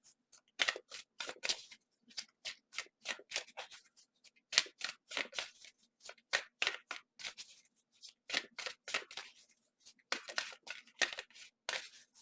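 Tarot cards are shuffled by hand in bursts of quick crisp flicks and slaps, separated by short pauses, close and fairly quiet.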